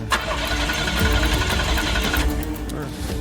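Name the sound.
vehicle engine starting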